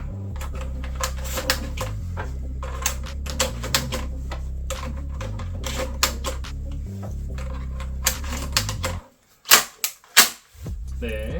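Foam Nerf darts click and snap into a LEHUI Beretta 1301 Tactical electric toy shotgun in quick, uneven bursts of sharp plastic clicks, over steady background music, ending with a few louder separate clacks.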